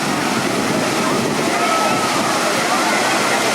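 Water at the wave pool of Universal's Volcano Bay in Orlando, Florida, makes a constant broadband rush and slosh of churning surf, loud and continuous, with voices faintly mixed in.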